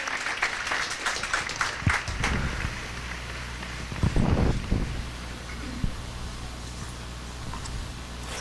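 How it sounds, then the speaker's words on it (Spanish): A church congregation applauds its volunteers during a bilingual sermon: scattered clapping that is strongest at first, then thins to a soft, distant patter with a few short bursts in a reverberant hall. "Give our volunteers a great hand."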